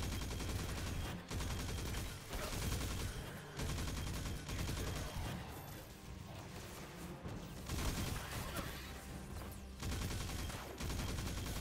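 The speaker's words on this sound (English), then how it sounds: "I'm just shooting up some Fallen as I wait" Continuous in-game gunfire in Destiny 2 as Fallen enemies are shot, a dense, sustained barrage of rapid shots with brief gaps, fairly quiet and steady throughout.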